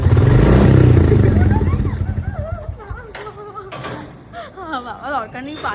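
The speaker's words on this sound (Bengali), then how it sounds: "কিন্তু বাইক স্টার্ট দিয়ে দিয়েছিস।" A motorcycle engine starts and runs close by, with loud clattering mechanical noise at first settling into a rougher running sound, while people talk over it.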